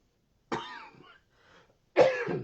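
Two harsh, close coughs from a man hosting a radio-style talk show, separated by a brief pause, the second burst louder and longer than the first.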